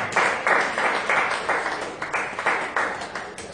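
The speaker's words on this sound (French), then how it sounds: "Est-ce qu'on peut donner une acclamation à notre Dieu?" Church congregation at a Sunday service clapping in unison, a rhythmic, evenly spaced beat of group claps at moderate loudness that holds steady throughout.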